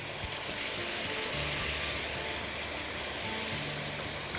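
Chicken pieces frying in a pan give off a steady, close hiss of sizzling oil that holds at an even level throughout, with no talking over it.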